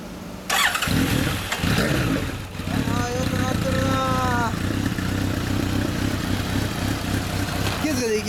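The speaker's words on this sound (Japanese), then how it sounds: "ちょっとエンジン音聞かせてもらえるかな" A 2012 Honda CB1100 motorcycle fitted with a Yoshimura exhaust starts up close by and settles into a loud, steady, throbbing idle, while people talk briefly nearby.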